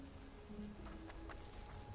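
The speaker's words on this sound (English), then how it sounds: "Is it raining over here? Again?" Steady rain falls across an outdoor area in the video game Aniimo, a continuous soft hiss of drops that stays even and fairly quiet for the whole stretch, with no voices over it.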